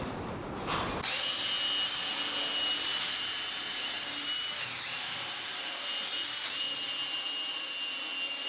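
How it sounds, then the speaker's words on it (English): After a brief moment of quiet noise, a power drill starts up and whines steadily at high pitch, pre-drilling holes in workbench boards, with slight dips in speed as it bores. "So now I'm going to pre-drill holes and screw them in."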